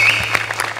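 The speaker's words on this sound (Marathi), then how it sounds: "सई, मला उभं राहून टाळ्या वाजवायच्या आहेत" Brief burst of applause from a studio audience after a stage performance, dense clapping throughout with a faint tonal hum underneath.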